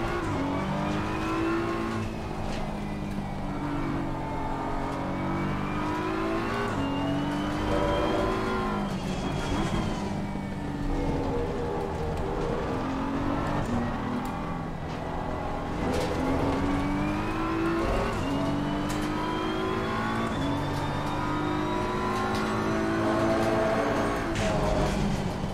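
Simulated race car engine from a racing video game at the Nürburgring, a steady sustained engine drone with rising and falling revs through shifts across the lap, continuous and loud with no talk.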